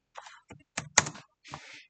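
Fingers typing a command on a computer keyboard in a quiet room, a few short bursts of clicking keystrokes, with one sharper, louder press near the middle.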